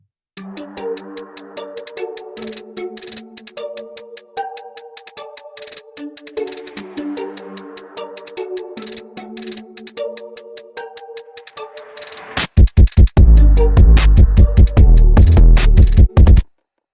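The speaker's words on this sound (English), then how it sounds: "I made some basically like white noise sweeps just by adding a ton of reverb and EQing a lot" Sweeping bursts of white noise built from a Fortnite charge shotgun sample, drenched in reverb and heavy EQ, play over a looping synth pattern, then a loud, dense rhythmic section with pounding bass hits kicks in.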